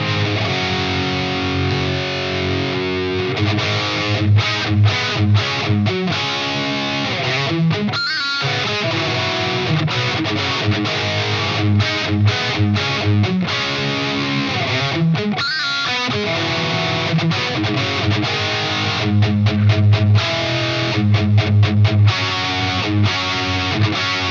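An electric guitar runs through an overdrive pedal stacked into a distortion pedal, giving loud, thick, saturated chords and chugging riffs with rhythmic palm-muted stops, played alone for over twenty seconds.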